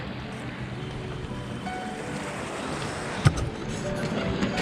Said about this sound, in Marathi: मालवणचा समुद्रकिनारा